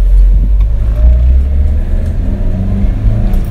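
A 2010 Daihatsu Xenia with a 1300 cc rear-wheel-drive engine accelerates, a loud, close, steady low rumble rising under throttle from inside the car.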